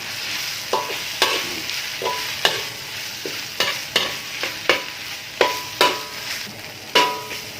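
Curry aromatics frying in a little oil for a wild boar curry, a steady close sizzle broken by regular scraping stirs of a spatula, about one stroke every second, with no talking.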